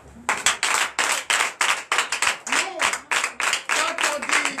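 A church congregation at a Sunday service in Comè, Benin, claps in a steady rhythmic beat of sharp, close hand claps, with voices calling out in acclaim between them.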